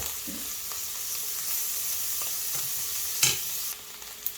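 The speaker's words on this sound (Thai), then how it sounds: "พอมันจะเสร็จแล้วนะคะเพื่อนปิดท้ายด้วยเนยใส่ลงไปบึ้ม" Potatoes fry in a pan with butter added near the end, giving a steady soft sizzle with a few sharp clinks and scrapes of stirring, fairly quiet and without talk.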